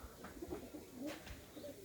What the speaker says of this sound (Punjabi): ਪੱਖੋਵਾਲ ਦੇ ਵਿੱਚ ਤੁਸੀਂ ਇਹ ਸ਼ੌਂਕ ਕਰ ਰਹੇ ਹੋ ਗੋਲੇ ਬਾਈ ਦੇ ਕਬੂਤਰਾਂ ਦਾ